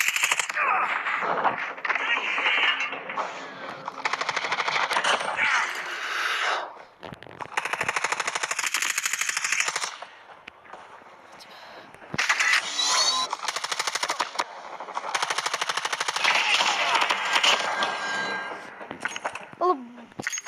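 Rapid automatic gunfire from Call of Duty bursts loudly and repeatedly in long volleys, split by short quieter gaps with clanks and game effects.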